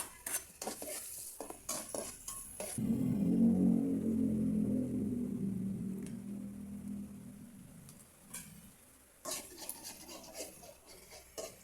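Garlic and onion hitting hot margarine in a pan burst into a loud sizzle that slowly fades, framed by clattering spoon and pan knocks before and after.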